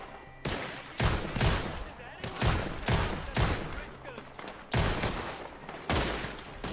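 Gunshots in the Red Dead Redemption 2 video game, a series of loud, sharp bursts repeating roughly every second with ringing tails between them.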